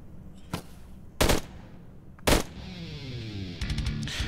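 Gunfire from a pistol in a VRChat zombie survival game, three loud separate blasts followed by a quick rattling burst of shots near the end, with no voices.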